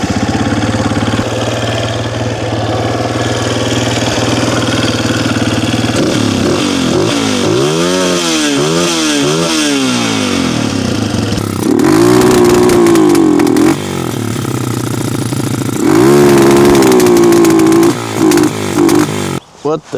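A Honda CRF 230 dirt bike engine runs close by, idling and then revving up and down in repeated rising and falling sweeps, with a voice speaking at times.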